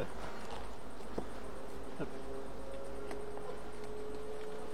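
Honey bees buzzing around an open hive while a beekeeper checks queen acceptance in young colonies, a steady low hum with faint ticks and scattered clicks throughout.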